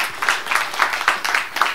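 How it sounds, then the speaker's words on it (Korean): An audience at an emergency meeting of YouTubers applauds a pastor in a steady rhythmic unison clap, about four beats per second, loud and close. "자 우선 목사님께 큰 박수 한번 부탁합니다."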